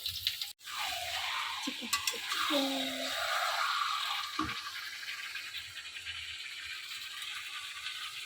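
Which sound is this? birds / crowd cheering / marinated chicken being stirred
marinated chicken being stirred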